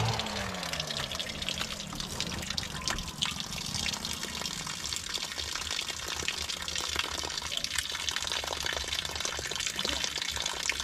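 Water gushes and splashes steadily from a homemade deep well with no motor pump, a continuous close running flow with drips and spatters throughout.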